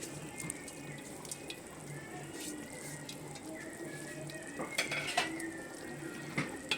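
Chicken dum biryani with basmati rice being gently mixed in a pot, faint scattered clinks of utensil on metal over a soft background with running-water-like noise, quiet and close.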